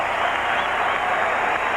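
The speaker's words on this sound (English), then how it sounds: "as they applaud and they cheer for Nomar Garcia-Parra" A Fenway Park baseball crowd applauds and cheers for Nomar Garciaparra, a steady dense roar of clapping and voices filling the stadium without a break.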